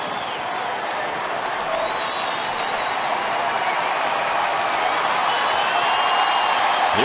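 A crowd of over 34,000 at a Twins at Tigers baseball game in Detroit cheers and applauds loudly and continuously, a dense roar that swells slightly toward the end.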